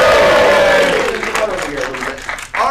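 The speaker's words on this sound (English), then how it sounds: "Everyone cheer for her." A studio audience cheers and applauds for a guest, a short burst of crowd noise that fades out as one voice carries on over it.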